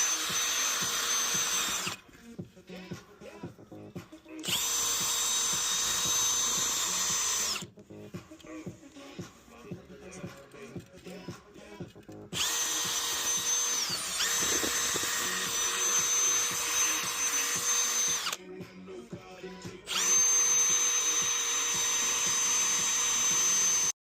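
A power tool rubs down the wheel of a Nuffield BMC mini tractor, its loud whirring running in long bursts of several seconds, stopping briefly between passes, close by.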